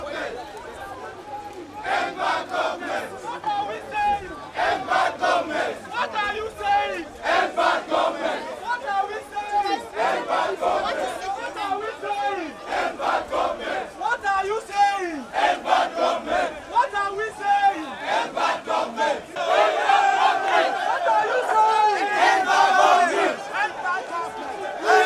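A large hunger protest crowd in Nigeria chants and shouts in rhythmic bursts, a dense mass of voices roaring and cheering continuously, loud and close throughout.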